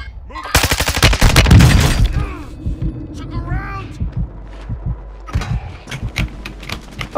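Sniper gunfire in the video game Call of Duty: Modern Warfare II: loud rapid bursts of shots followed by scattered single cracks and shorter volleys.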